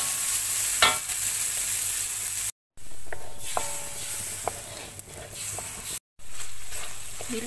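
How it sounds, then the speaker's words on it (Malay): Curry spice paste with turmeric for a coconut-free prawn curry sautés in oil, a steady close sizzle and stirring scrape with brief scraping clicks, interrupted by two short silent gaps. "Kita tumis dia sampai dia betul-betul masak ya."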